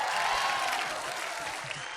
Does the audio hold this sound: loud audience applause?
yes